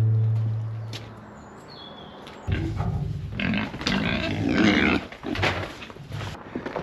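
A pig grunts and snorts up close on a farm, with rough, irregular bursts starting after a low steady hum and quieter background.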